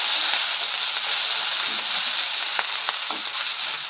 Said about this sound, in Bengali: খাই কি খাই তাই চাউমিন বানিয়ে নিচ্ছি